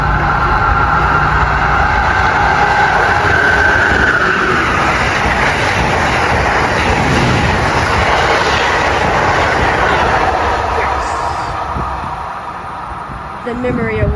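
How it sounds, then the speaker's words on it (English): Amtrak Silver Meteor passenger train, number 97 bound for Miami from New York, rushing past Princeton Junction station with a loud sustained roar and rattling wheels that slowly fade near the end. "Here comes number 97, the Silver Meteor, on its way to Miami from New York."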